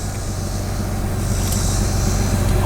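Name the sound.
2000 Jeep Cherokee XJ engine idling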